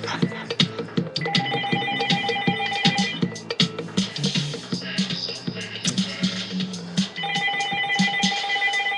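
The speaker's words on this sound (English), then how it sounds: "Why is it every fucking time I get on this goddamn computer, the motherfucking phone rings?" A telephone bell rings in repeated bursts amid busy music-like clatter, fairly loud, while someone sits at a computer.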